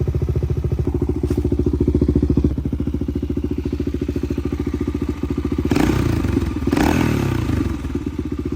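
A Honda XR400 dirt bike engine idles steadily and close by, a fast even putter with a few clunks and rattles partway through.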